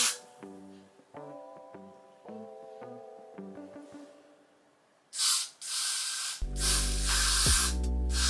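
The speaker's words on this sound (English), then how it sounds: "this is the Got To Be spray," Got To Be hair spray shoots out in two bursts, a loud close hiss after a stretch of tonal music with a voice underneath.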